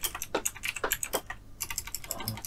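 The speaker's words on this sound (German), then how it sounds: "Tippen sollte man können." Fast, steady typing on a computer keyboard at a desk, quiet and close, with irregular clusters of sharp key clicks and no talking.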